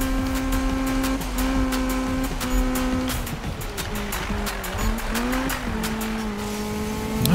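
A car races through corners in Need for Speed 2015, its engine droning loudly with pitch rising and falling through gear shifts, plus bursts of tire squeal and no talk.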